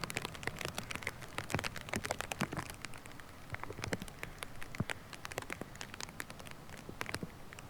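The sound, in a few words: rain falling on disc golf course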